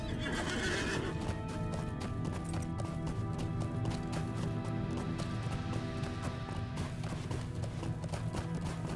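A mount in the Lord of the Rings Online video game whinnies loudly at the start, then clip-clops steadily at a trot under a continuous bed of game music and ambience.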